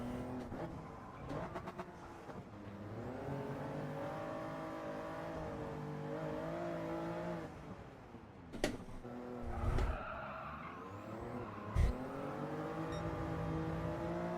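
Race car engine in Gran Turismo 7 during a time trial, a steady sustained drone with shifting pitch as the car accelerates, punctuated by a couple of sharp thumps and brief gear-change dips, loud and alone.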